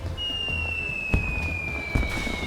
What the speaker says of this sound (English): The shockwave of the fourth explosion has sent him flying like a shooting star.